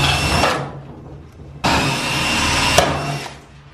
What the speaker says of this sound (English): three rivets, I'm just going to drill those out